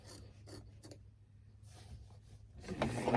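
Fabric being cut with scissors while lifted up, giving faint, close snipping and rasping strokes in short bursts that grow louder toward the end.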